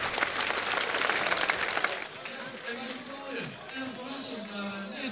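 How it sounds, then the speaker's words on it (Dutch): Crowd applause for junior winner Sietse Bokma at a Dutch fierljeppen (canal pole vaulting) championship final, loud and dense for the first two seconds, then thinning as a voice speaks over the fading clapping. "Ja, maar applaus."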